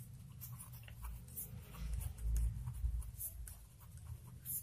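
A pen writes out a maths solution on paper, heard as quiet, close scratching strokes with small taps, in short irregular bursts.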